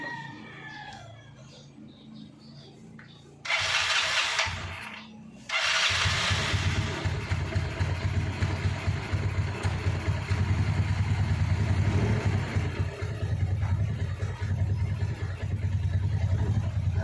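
An engine cranks with two short bursts, then catches and settles into a steady, loud idle rumble nearby, with a rooster crowing in the background early on.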